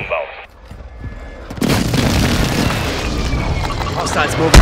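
Air strike explosions in Call of Duty: Modern Warfare II battle royale: after a quieter start, a heavy booming blast erupts and rolls on as a loud, sustained rumble, with faint talk near the beginning.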